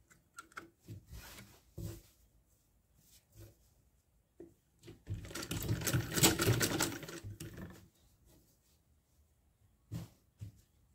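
A sewing machine stitches a kimono bridal robe at a belt holder: scattered short taps and brief bursts, then one steady whirring run of about three seconds, and a couple more short bursts near the end.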